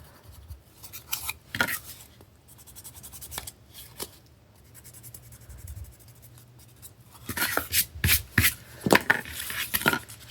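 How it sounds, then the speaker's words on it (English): An eraser rubs out pencil marks for the lid hinges of a DIY bead holder craft, producing close, quick bursts of scrubbing strokes that turn rapid and rhythmic near the end, with no talk. "Now that we have them, you can just go ahead and erase them."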